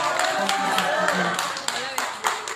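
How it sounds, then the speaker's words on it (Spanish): Audience applause at a literary event in Jerécuaro, scattered sharp claps from a modest crowd mixed with voices and chatter, fairly close and uneven. "Fuerte el aplauso."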